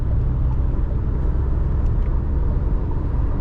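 Nissan Tekton with a 1.0L turbo engine and manual gearbox cruising on a highway in fifth gear, a steady low rumble of engine and road noise filling the cabin, with no talk.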